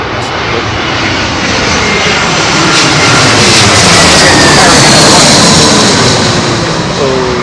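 A heavy jet airliner lands on runway 27L at London Heathrow Airport in a southwesterly crosswind, its engines roaring loud and close, building and holding as a continuous rushing drone with reverse-thrust swell.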